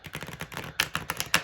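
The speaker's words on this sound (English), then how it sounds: "I like a good shuffle" Thin tarot cards are riffle-shuffled by hand, heard as a rapid run of close, crisp flutters and snaps that end in a few sharper taps as the deck settles.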